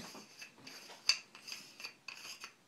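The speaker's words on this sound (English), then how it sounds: "You just unscrew the pommel" A lightsaber pommel, an Ultra Sabers Dark Standard Issue hilt, is twisted off by hand, giving a close, dry metallic rasping with several short scraping strokes in quick succession.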